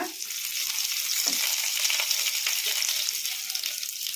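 Curry leaves hit hot oil with chana dal frying for ridge gourd chutney, giving a loud, dense, crackling sizzle. The hiss stays steady and close, with a brief spatter near the start and no talking.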